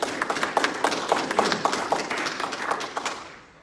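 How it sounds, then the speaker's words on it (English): Scattered clapping from a modest audience at a military change of command ceremony, individual claps audible rather than a dense roar, tapering off and fading near the end. "Let's give the Hollands a big round of applause"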